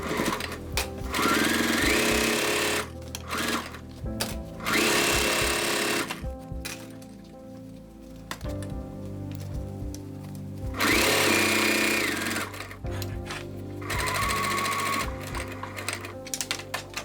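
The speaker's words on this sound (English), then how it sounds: "I know that the machine is pushing the top layer down, so I'll actually sew from the same side" Sewing machine stitching a bag's lining and main fabric together without a walking foot, running in loud close bursts of rapid mechanical clatter separated by short pauses, with no talking.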